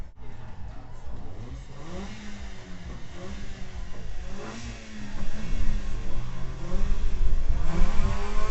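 Toyota Starlet street-race car at a street race event in BSD: its engine revs hard with rising and falling pitch, growing louder and nearer toward the end over a noisy outdoor background.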